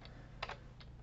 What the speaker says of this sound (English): Now I can just hit the enter key and keep typing.